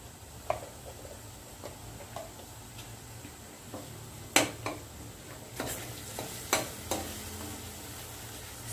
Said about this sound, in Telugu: దీనిలోనే ఒక 1 స్పూన్ అల్లం వెల్లిపాయ పేస్ట్ వేసుకుంటున్నాను.